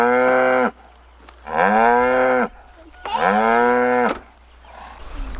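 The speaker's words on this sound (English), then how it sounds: "All right, Hudson, this is the one that was mooing at you" Cow on a farm mooing three times, long loud bellows close by with short pauses between them, no talk.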